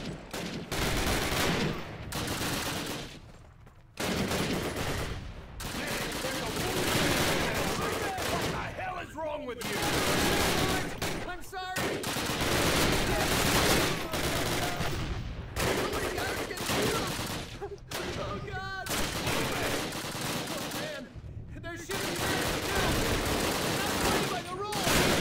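Dense, sustained gunfire from a magical gun in the Call of Duty video game, with rapid overlapping bursts rattling almost nonstop and only brief pauses between volleys, loud and close.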